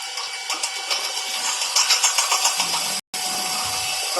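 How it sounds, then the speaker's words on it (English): DC shunt motor in a lab load test, running steadily at rated speed with a continuous mid-to-high whine and hum, briefly cutting out for a split second before resuming. "now motor is running at rated speed"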